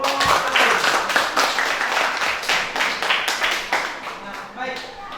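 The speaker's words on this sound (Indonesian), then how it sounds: "Tepuk tangan buat kelompok." A classroom group of students claps for a presenting group, loose rhythmic hand claps close by that gradually thin out, with some talking mixed in.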